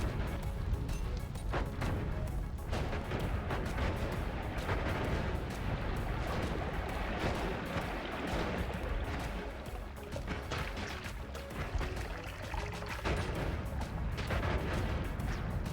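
Dense, continuous explosions and crashing blasts from the video game Noita, loud and relentless with rumbling low booms and sharp bursts layered over each other throughout, with no pause.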